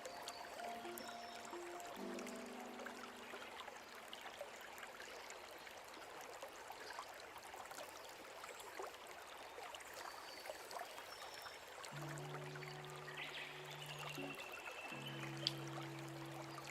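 Water runs steadily into and pours out of a glass sprouting jar as sprouts are rinsed in warm tap water, a continuous close trickling and splashing with faint tonal hum in places.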